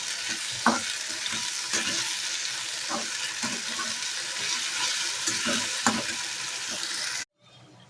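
Spice masala for chicken biryani frying in a pan, a continuous loud sizzle with periodic scraping stirs of the spoon, ending abruptly in near silence.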